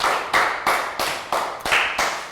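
Classroom of young students applauding a classmate during a math lesson, a rhythmic burst of seven or eight loud, close unison claps in a steady beat.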